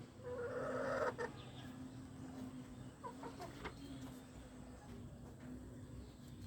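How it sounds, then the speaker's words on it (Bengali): Caged chickens on a rooftop cluck softly in a steady, noisy setting, with a brief louder burst of clucking near the start and low background hum throughout. "চারটে মুরগি রয়েছে।"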